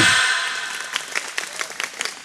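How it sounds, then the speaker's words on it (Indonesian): Audience at an Islamic sholawat gathering applauding, a dense burst of clapping that fades into scattered, lighter claps. "ya tepuk tangan."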